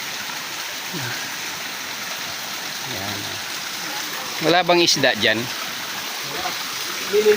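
Water flowing from a natural hot spring shower over rocks in Leyte, a steady close trickling rush throughout, with people talking briefly over it.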